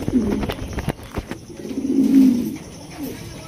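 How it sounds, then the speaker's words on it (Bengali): Sundori Golla pigeons coo with low, soft rolling calls up close, a longer swelling coo in the middle, mixed with scattered clicks and rustling. "এই যে দেখেন খুবই সুন্দর একটা সুন্দরী গোল্লা কবুতর মাশাআল্লাহ।"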